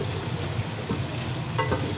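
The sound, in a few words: garlic and ginger frying in a pan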